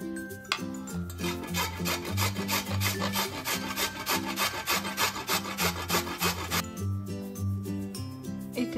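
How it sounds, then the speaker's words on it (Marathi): Peeled beetroot rubbed against a grater in quick, rhythmic rasping strokes, close and steady throughout, with no talking over it. "हे किसून घ्यायचंय।"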